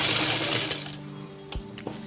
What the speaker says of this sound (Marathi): तर ह्या खाचीमध्ये आपण टिप मारून घेऊया